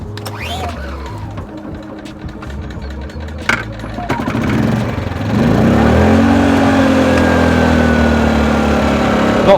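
A portable generator of about 1700 to 1900 watts, sitting near a boat, is pulled into life. Sputtering clatter gives way to a steady, loud running drone that holds for the last few seconds.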